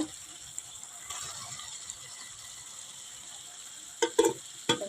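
Cauliflower florets go into a hot pan: a faint background sizzle, then a few sharp clattering bursts near the end as pieces land and are moved.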